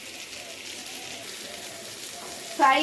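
Steady sizzling and crackling of a paste frying in a pan for a raw jackfruit and small prawn dish, continuous and fairly close, with a brief louder clatter near the end.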